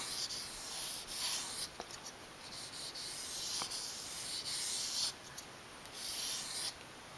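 A knife blade is stroked repeatedly across 2000 grit sandpaper while sharpening, a series of soft, raspy rubbing passes, quiet and close, with brief pauses and light taps between strokes.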